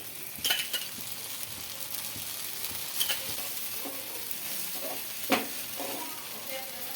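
Dosa batter cooks with oil on a hot pan, a soft steady sizzle with a few sharp scraping strokes and a faint voice in the background.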